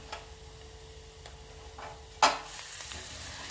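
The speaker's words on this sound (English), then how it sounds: "Then fry the grated coconut." Grated coconut fries in a pan with a soft, steady crackle and sizzle, faint ticking stirs scattered through it and a sharper clatter partway as the pan is handled.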